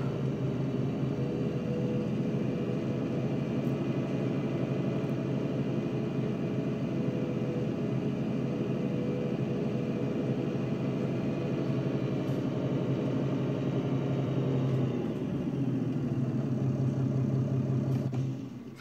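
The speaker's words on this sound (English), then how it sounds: "this is the John Deere that we're going to be using" A John Deere tractor engine in the Farming Simulator 19 game, a steady low droning hum with a constant rumbling tone that holds unchanged for most of the stretch, then dips briefly and resumes before cutting off, no voices over it.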